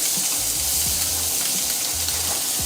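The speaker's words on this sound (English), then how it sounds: "I'm getting a really nice sear on these scallops" Scallops searing hard in a hot pan, a dense, continuous loud hiss with crackling spits and faint low bubbling underneath, no voice.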